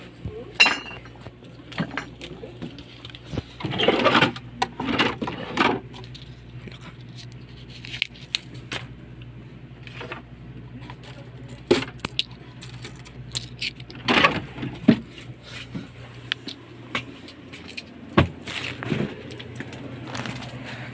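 Coins and loose change being handled and sorted by hand indoors, giving repeated metallic clinks and jingles in bursts over a low steady background hum, with no talking.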